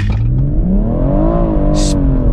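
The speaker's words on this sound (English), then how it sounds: "foot hard on the accelerator, launch control active, and then go" A BMW M140i launches hard with launch control, its engine note climbing loudly and steadily in pitch as the car pulls away with wheels spinning, heard close from inside.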